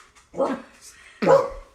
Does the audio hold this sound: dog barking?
yes